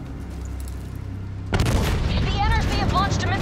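In Call of Duty Black Ops III, an artillery barrage hits with a sudden loud boom and continues as dense, rumbling explosions. Shouting voices come through over the blasts.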